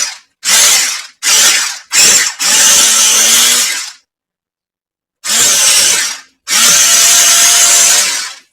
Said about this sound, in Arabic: نبدأ بقى بالهاند بلندر كده، نديها كام تقليبة لحد لما توصل للقوام الكريمي